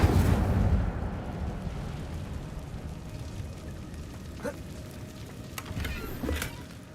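Incendio fire spell cast in the game Hogwarts Legacy: a loud whooshing burst of flame at the start that rumbles down into a steady crackling roar, with a few sharp pops later on.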